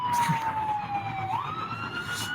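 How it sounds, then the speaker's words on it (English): An emergency vehicle siren wails steadily at a police standoff scene near a shut-down highway. Its tone sweeps slowly down and then back up, clear over a constant background rumble of traffic, and no one talks. "You can hear sirens"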